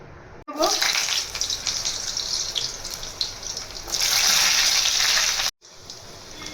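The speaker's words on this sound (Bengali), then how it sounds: "এবার আমি এই সবজিগুলোকে ভেজে নেব।" Vegetables frying in hot mustard oil in a kadai for sambar dal, a loud steady hissing sizzle that surges midway, with a brief cut near the end and no talk.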